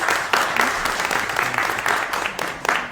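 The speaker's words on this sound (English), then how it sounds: "Can we give Evelina one more round of applause, please" Audience applause at a corporate event, steady clapping from a crowd filling the room at moderate level with no talk over it.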